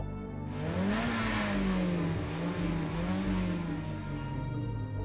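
A car engine revs in the Midnight Club 2 racing video game, a steady loud drone with rising and falling pitch sweeps as it accelerates, alone without talk.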